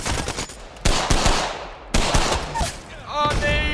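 Alternator submachine gun fire in the video game Apex Legends: loud, close bursts of rapid automatic shots separated by short pauses, ending with a ringing tonal game sound.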